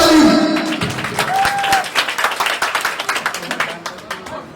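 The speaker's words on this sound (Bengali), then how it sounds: "সকালে আবার জোরে একটি করে তালি।" An audience at a blood foundation's founding anniversary gathering claps, building from scattered claps into a loud burst of rhythmic applause, with a voice speaking over the start.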